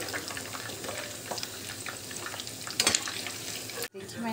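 Chicken pakoras sizzle in hot oil, a continuous crackling fry with occasional louder bursts and a brief clatter near the end, close by.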